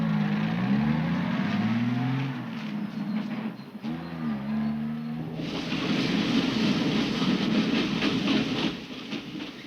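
A train rumbles along with low, wavering tones from the wheels and carriage, then a broad rushing wash of noise takes over as it keeps moving.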